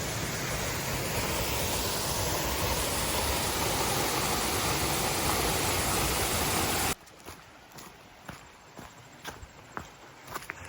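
Rushing water of Wolf Creek along a trail near Wolf Creek Falls roars as a loud, steady broadband wash for about seven seconds, then cuts to a quieter scene with scattered footsteps and light knocks.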